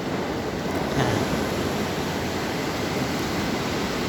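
Steady, dense rush of a waterfall inside a cave, loud and continuous, with no voices.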